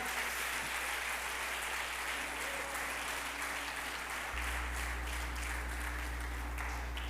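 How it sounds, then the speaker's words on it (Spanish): A church congregation applauds during a sermon, steady dense clapping from many people at a moderate distance, sustained over a constant low hum from the room's sound system. "Dele palmas al Señor"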